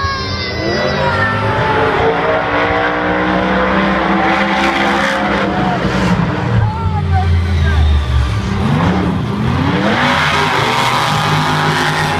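Monster trucks race in round one of the 2014 Monster Jam World Finals, including the Lucas Oil Crusader, their engines roaring loudly and continuously in a stadium under an announcer's commentary.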